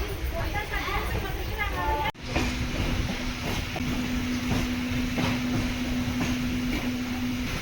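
A MEMU passenger train running on rails between Tiruvannamalai and Tambaram rumbles steadily from inside the carriage, with a sustained hum and rattling under a busy background and a sharp click partway through.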